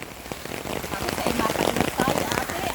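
Heavy rain pours down and grows stronger, a dense close patter and splash on surfaces that builds slightly louder over a few seconds.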